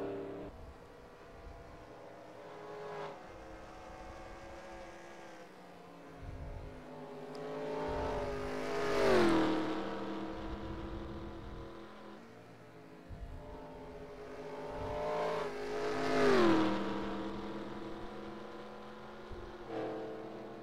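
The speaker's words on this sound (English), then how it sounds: "If only Strauss can push on for just another 5 laps, then this race will be his" Race cars roaring around Darlington in the NASCAR Racing 2003 video game: a continuous multi-engine drone, with two loud close passes that swell and drop in pitch, one around the middle and one near the end.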